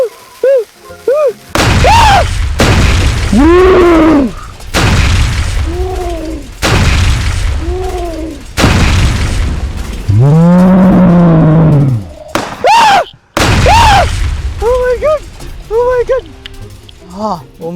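Fireworks explode against a squash: several sharp, loud blasts go off close by, mixed in with excited shouting and exclamations from people nearby.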